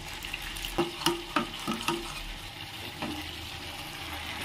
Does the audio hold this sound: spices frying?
yes